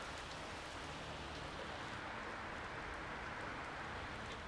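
Heavy rain pours outdoors in Germany, a steady dense hiss of drops striking surfaces with no break, moderately quiet and continuous throughout.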